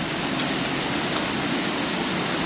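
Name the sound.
water flowing in a Dolomite canyon with waterfall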